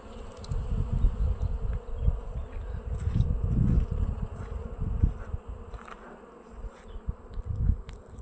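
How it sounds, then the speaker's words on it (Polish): Dense buzzing of many honeybees flying around hives at an apiary in early spring while carrying pollen, a continuous low drone with individual bees passing close, no voices. "I pszczoły tego pyłku noszą naprawdę spore, e, spore ilości"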